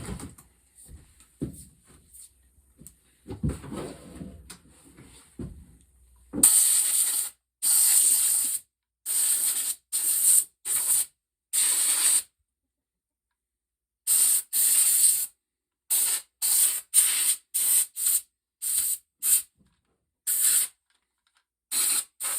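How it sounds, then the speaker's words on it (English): Compressed air blows dust off a rifle being prepped for spray paint, arriving as a rapid series of sharp hissing bursts of varying length after some quiet handling noises, close to the mic. "I'm going to hit it with some air,"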